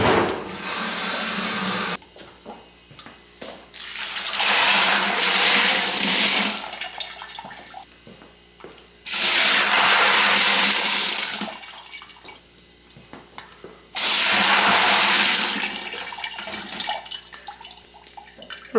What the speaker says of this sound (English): just give it a rinse